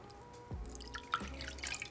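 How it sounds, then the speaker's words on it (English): Water is added into a cooking pot for churro dough, heard as a few separate close splashes and drips with quiet gaps between them. "We're going to add our water"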